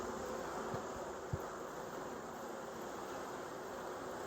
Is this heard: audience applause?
no